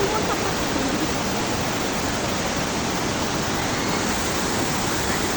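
Sprite Falls in Majayjay, Laguna pours in a steady, loud, dense rush of falling water that fills the whole stretch without pause.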